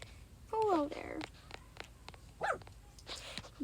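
A dog barks indoors, giving two short, yelping barks a couple of seconds apart that sound faint and thin against a quiet room with other low sounds.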